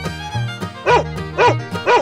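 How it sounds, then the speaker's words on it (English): A cartoon dog barks in an animal sound game, three loud, evenly spaced woofs set over a bouncy synthesized backing tune. "Dog."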